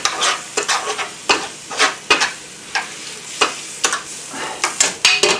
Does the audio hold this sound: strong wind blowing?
no